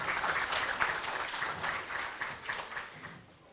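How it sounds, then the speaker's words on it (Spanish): At a legal conference in Cajamarca, the audience claps for a court official. The applause is soft and somewhat distant, a steady patter of many hands that tapers off at the end. "Un aplauso también para él."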